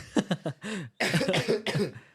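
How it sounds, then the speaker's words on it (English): A coughing fit: several harsh coughs in quick succession, then a brief pause and a louder burst of rapid coughing, close up. "just had a coughing fit"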